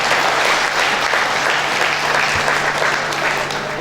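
An audience at a musical event for 8 March in Aghdam gives loud, sustained applause for the President, many hands clapping steadily and densely throughout with a constant low hum underneath.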